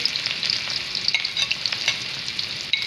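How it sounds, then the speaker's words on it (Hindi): Chopped onion sizzles in hot oil in a pan, a bright, crackling hiss with small popping spikes and light stirring scrapes, close and steady, no talking. "अब डालेंगे प्याज चॉप की हुई"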